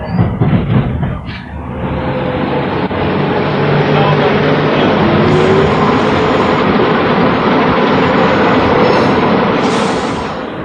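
A Sheffield tram rumbles steadily along its tracks on a hilly route, loud and close, with a continuous rolling drone and faint rail clatter throughout.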